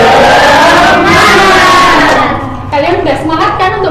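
A third-grade primary school class shouts a loud group clap chant in unison, voices and clapping close and energetic, ending in a burst of rhythmic claps.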